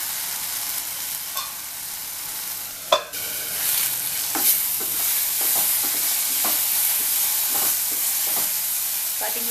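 Mushroom masala cooks in a pan with a soft, steady sizzle, while a spoon scrapes and stirs in scattered clicks and one sharper knock.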